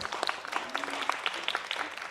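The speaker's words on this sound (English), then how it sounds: "We can applaud, woo!" A forum audience breaks into brief applause, quick uneven claps from a modest crowd in a small hall, close and fairly loud for about two seconds.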